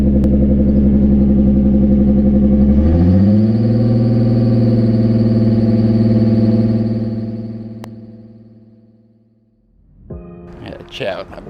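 A rebuilt turbocharged VR6 in a Mk4 runs loud and close, starting with a steady idle, then rising into a sustained higher-pitched hold. It drops back down and ends in a burst of rougher revving.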